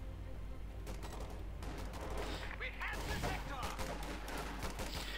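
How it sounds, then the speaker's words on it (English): Thompson submachine guns and BAR rifles fire in a Company of Heroes 2 match, a steady stream of overlapping bursts and volleys with dense, continuous gunfire throughout and a commentator talking over it. "Thompson and BAR firing away."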